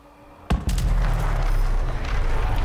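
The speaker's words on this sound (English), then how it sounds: "explosions." Explosions in the video game Dragon Age: Inquisition: a sharp blast near half a second, then a second burst that swells into a loud, sustained rumbling roar that carries on to the end with no talking.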